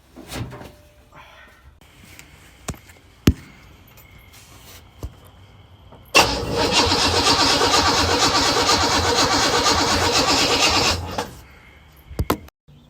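A 1963 Chevy Impala V8 unused for over 14 years cranks and catches, a loud steady engine roar running about five seconds after scattered clicks and clunks, then cutting off.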